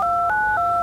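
A telephone keypad sounds a quick run of dual-tone dialing beeps, each tone clean and distinct, with no voices around them.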